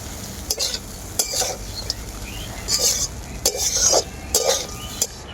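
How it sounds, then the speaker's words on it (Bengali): Semolina pulao with fried cashews and raisins is stirred in a pan, with a spoon scraping in short bursts over a soft frying sizzle and a few faint murmurs. "আমি দিয়ে দেব কাজু আর কিশমিশ ভেজে রাখা আবারও একটু হালকা নাড়াচাড়া করে নেব"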